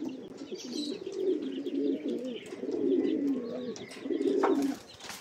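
Young racing pigeons coo in a loft, a soft repeated throaty warble rising and falling close by, with faint chirps and background rustle and no talking.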